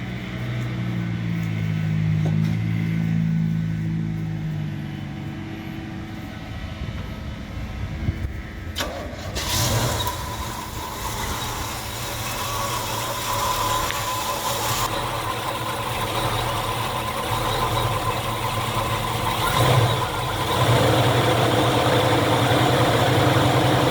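A 1972 Chevrolet El Camino Super Sport with a matching-numbers 402 big block idles quietly at first, then cranks and fires partway through and settles into a steady, rumbling idle, heard up close with no talking.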